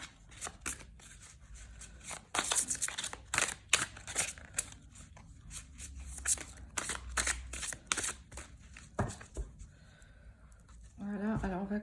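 Tarot cards being shuffled close by in quick bursts of crisp riffling and flapping, with short pauses between bursts and a voice speaking briefly at the end.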